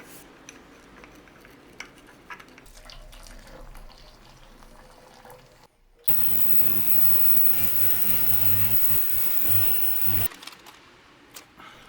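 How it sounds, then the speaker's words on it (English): A heated ultrasonic cleaner works on a Rolex bezel, its steady loud buzzing hum running for several seconds after quieter handling and rustling noises. "let's boil it up again with some heat in the ultrasonic cleaner, as that will help loosen it"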